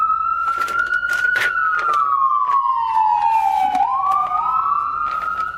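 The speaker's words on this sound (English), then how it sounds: "I live near the fire department, so you're going to hear the fire engine often in my videos" A loud wailing siren sweeps slowly down in pitch, close by, with clattering and tapping noises scattered throughout.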